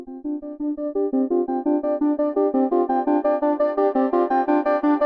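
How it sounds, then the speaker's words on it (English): A repetitive eight-step modular synth sequence driven by a Verbos Voltage Multistage and quantized, plays steady pitched notes in an even, looping rhythm, bright and harmonically rich, with no voices. "an 8-step sequence with a voltage multistage from Verbos"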